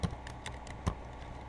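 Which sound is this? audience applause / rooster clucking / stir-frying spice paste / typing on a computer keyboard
typing on a computer keyboard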